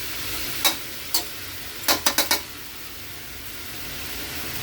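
Pork dinuguan being stirred in a pan, heard as a few sharp scraping strokes: two separate ones, then a quick run of three or four, over a faint steady hiss with no talking.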